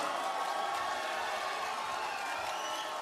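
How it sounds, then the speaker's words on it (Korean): A crowd at a political party convention applauds and cheers for the candidates after their speeches, a continuous wash of clapping and crowd noise heard from a distance and fairly faint. "고생하신 후보자들께 다시 한번 격려의 박수 부탁드립니다."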